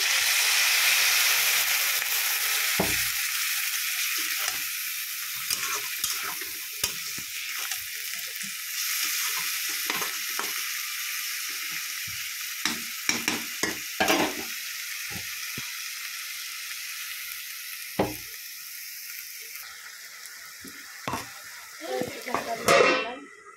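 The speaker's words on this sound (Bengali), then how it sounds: "এটা কিন্তু ভালো করে একটু নাড়াচাড়া করতে হবে, ঠিক আছে? নিচে লেগে যেতে পারে তলায়।" Cauliflower curry frying in a pan, heard as a continuous hiss and sizzle with intermittent spatula scrapes and knocks. Someone talks over it now and then.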